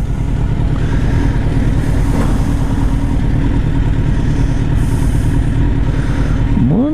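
A motorcycle engine runs loud and close in hot weather, holding a steady rough drone for several seconds before a quick pair of rising revs near the end; no one speaks.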